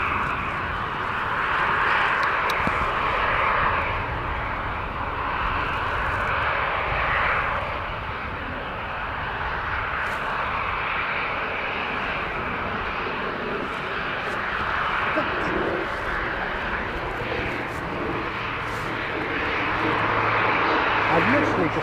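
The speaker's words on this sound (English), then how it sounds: "I've literally just had that ATR go straight over the top of me." An ATR turboprop passes straight overhead at Christchurch International Airport on a wet, windy day, its engine roar loud and steady throughout, swelling near the end, with a voice talking over it.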